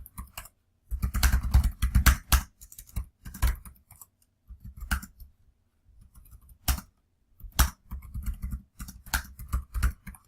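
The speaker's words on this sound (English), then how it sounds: "I'm just going to type that out real quick." Quick bursts of typing on a computer keyboard while entering program code, close and clear, with irregular rapid key clicks in clusters separated by short pauses.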